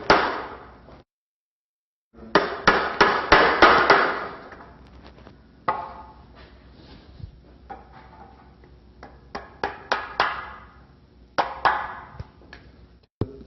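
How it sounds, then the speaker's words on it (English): A chisel squaring out the corners of mortises in a wooden post for a four-poster bed, heard as clusters of sharp mallet strikes in quick bursts of four or five, separated by quieter scraping and paring, close and distinct. "We'll use a chisel to square out these corners here"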